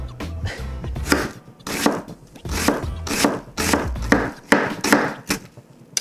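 A knife chopping an onion on a wooden board, bursts of quick sharp cuts in uneven clusters of three to six strokes, close and crisp, with no speech.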